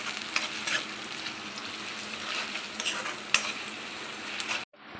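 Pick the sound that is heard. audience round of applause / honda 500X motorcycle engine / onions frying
onions frying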